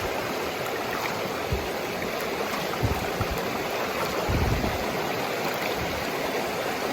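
Water running and splashing steadily over Indian artifact points being washed outdoors in the Western North Carolina mountains, a continuous close trickling wash with a few louder splashes partway through.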